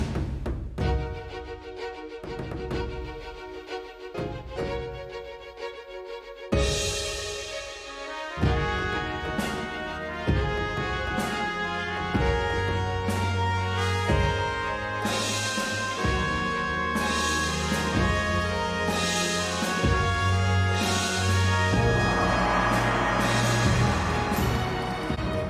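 Bedwars game music section with trumpets and flute, starting sparse with plucked chords and building into a full layered orchestral texture with a doubled counter melody and bass, moderately loud and without speech.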